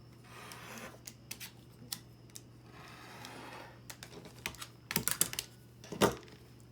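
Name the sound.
rotary cutter trimming quilt block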